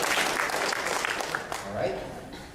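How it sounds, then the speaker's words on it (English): An audience applauds a volunteer called up during an indoor product demonstration, a steady wash of clapping that fills the room for a few seconds, with voices talking over it. "Let's give a round of applause for our volunteer."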